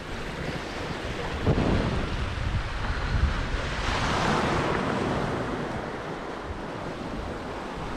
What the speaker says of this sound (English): the waves have calmed down. The wind has calmed down.